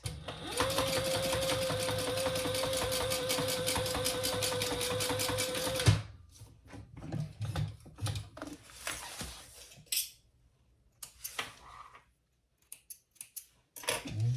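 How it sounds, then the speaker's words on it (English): A sewing machine top stitches along a crossbody bag gusset, running in a fast, even mechanical rattle for about six seconds, then falling quiet apart from scattered handling clicks and rustles. "we're going to top stitch along the gusset"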